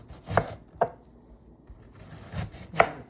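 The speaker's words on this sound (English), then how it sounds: "Chop it up." A knife chopping a white onion on a cutting board, four or five sharp, separate thuds spaced irregularly, close and fairly quiet with no talking.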